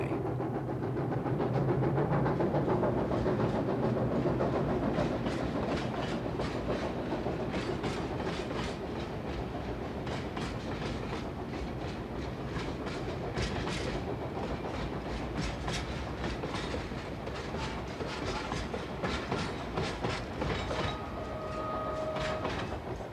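A train crossing the Tian Shan Mountains runs steadily along the rails, its wheels clicking in a quiet, continuous rhythm beneath a low mechanical hum heard from inside a carriage.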